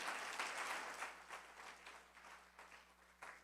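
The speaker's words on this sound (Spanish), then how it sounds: "Yo le doy un fuerte aplauso al Señor." Church congregation gives loud applause to the Lord, dense clapping from many hands that is fairly faint and distant, gradually thinning and tapering off, with a low steady hum beneath.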